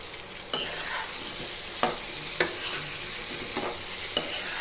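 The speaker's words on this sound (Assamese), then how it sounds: "মই এতিয়া আলুখিনি দি দিম ইয়াতে" Potatoes go into a pan of frying chicken curry and are stirred through, a steady sizzle broken by several sharp scraping clicks of the spoon against the pan, close and alone with no voices.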